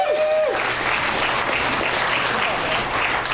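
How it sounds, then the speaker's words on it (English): An audience gives a continuous wash of applause, steady and fairly loud, with a brief tonal squeal near the start and faint voices mixed underneath. "another round of applause for Mitch Nelson"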